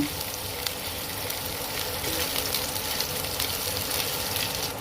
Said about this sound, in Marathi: तेल आपलं गरम झालेलं आहे आपण आता त्याच्यामध्ये जिरं घालून घेऊ मग मिरची घालून घेऊ हे परतवून घेऊ